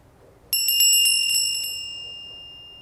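A small hand bell rung in a quiet room: a quick burst of bright metallic strikes, then a long clear ring that slowly decays, alone with no talk.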